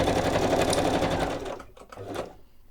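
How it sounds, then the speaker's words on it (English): A sewing machine stitches around a folded book page in a close, steady mechanical whir, then slows into a few short, softer bursts before stopping. No one speaks. "first I'll stitch around the bottom, because remember it's on folded book page that I was recycling"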